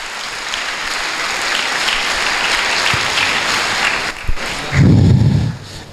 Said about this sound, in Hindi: जोरदार तालियां यीशु नासरी के लिए।